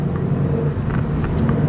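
A car engine rumbles deeply through its exhaust in a low, steady idle with slight throttle swells, close by and fairly loud, from a Scion FR-S sports car with supercharger and aftermarket exhaust.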